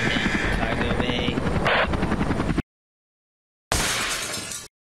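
Helicopter rotor chopping loudly just outside an airship's cargo bay doors in a video game, a steady close drone with a brief glassy shatter midway, then a cut to silence before the rotor noise returns briefly.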